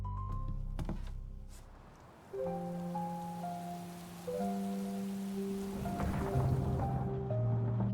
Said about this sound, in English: Choose from afternoon or daytime rain weather.